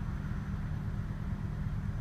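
A 1999 Subaru Legacy B4 RSK with a twin-turbo engine idles steadily, giving a low, even rumble that stays constant and close with no revving.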